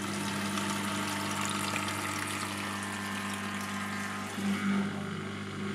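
A Hava R01 mini dishwasher with a glass door drains its water: a steady, humming pump drone with a rushing, gurgling wash on top. It stays even throughout, with a brief gurgling swell near the end.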